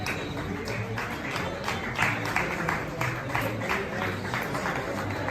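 People in a restaurant clapping for the president, a scattered, continuous patter of claps under a general crowd murmur, fairly distant and even throughout.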